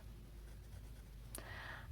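A Platinum extra fine nib fountain pen scratches lightly across paper, a faint, close, continuous dry writing sound with a brief tick near the end.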